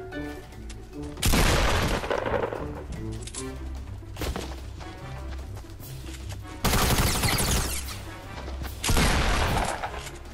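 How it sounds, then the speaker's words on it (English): Video game shotgun blasts and SMG fire come as several loud, abrupt bursts of gunfire separated by quieter stretches, close and punchy, with a voice and laughter between shots. "miss with the shotgun, finish with the SMG"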